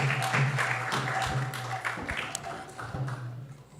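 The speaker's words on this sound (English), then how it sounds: "So please give him a big round of applause." An audience at a temple talk gives a brief round of applause, scattered claps and taps in a roomy space. The clapping is fairly quiet and thins out over a few seconds.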